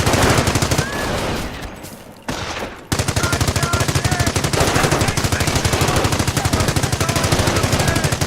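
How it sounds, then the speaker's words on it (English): Rapid machine-gun fire in the Company of Heroes war game, a dense continuous loud rattle of shots with a brief lull in the middle before the burst resumes and runs on steadily to the end. "Taking fire!"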